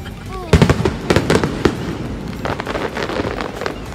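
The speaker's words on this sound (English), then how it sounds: "Nagpuputukan pa yung mga fireworks sa likuran." Fireworks burst in rapid succession at an evening hanabi display in Japan, a string of loud cracking pops and crackles with distant rumble, while people talk nearby.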